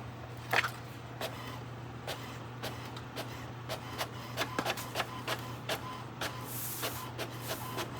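A printer running, its repeated mechanical clicks and clacks ticking irregularly over a constant low hum, fairly close and without talk.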